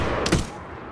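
Sniper rifle headshot in the Medal of Honor video game: one sharp, loud crack with a short burst of noise that quickly fades into low background ambience.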